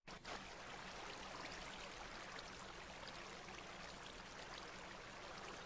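Water flows from freshly placed water source blocks in the Minecraft video game, a steady, even rushing like a stream that starts abruptly and continues unbroken at moderate level.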